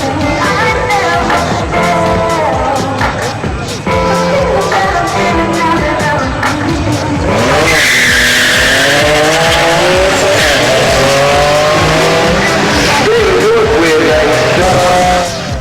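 A drag race car with a rebuilt engine and a Garrett TO4Z turbo roars loud and close, the engine rising through gear changes with tyre squeal midway as the run pulls away.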